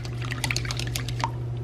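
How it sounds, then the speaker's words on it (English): A milk and seasoning mixture for mac and cheese is poured into a baking dish, giving a soft, steady liquid trickle with small drips over a low background hum, close and continuous. "I pour the rest of my mixture in it."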